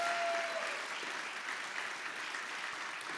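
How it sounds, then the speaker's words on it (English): Audience applause at a hall of fame induction ceremony, a dense, steady wash of clapping from a large crowd filling the room throughout. "Go ahead, keep clapping."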